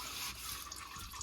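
Engine oil from a 2015 Yukon Denali XL 6.2L drips and trickles out of the drain into a pan, a steady wet patter with no talk over it.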